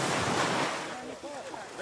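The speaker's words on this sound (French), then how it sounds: "Et aujourd'hui, la mer est calme." Calm sea waves washing gently near the shore, a soft continuous surf wash with some wind noise on the microphone, steady and moderately near, with faint tonal sounds in the background.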